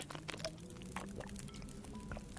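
Water being gathered in The Long Dark video game, heard as a soft pouring and trickling sound, faint and continuous over a quiet background hum with a few light drips, and no speech.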